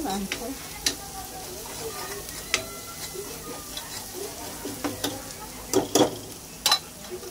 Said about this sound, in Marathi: म्हणजे हे छान भाजलं जातंय। एकदम चांगलं भाजायचं।